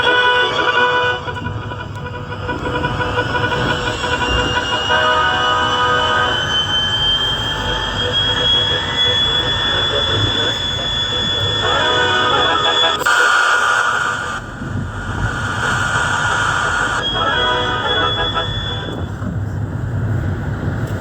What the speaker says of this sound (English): the train roared past the sidings